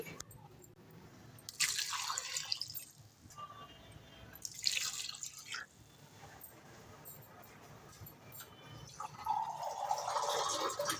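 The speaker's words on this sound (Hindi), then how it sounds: "अब हम इसमें 3 गिलास पानी डाल के यखनी बनाने रख देंगे।" Water poured from glasses into a pot of spiced chicken yakhni, three separate pouring bursts splashing and gurgling close by, with quiet gaps between them.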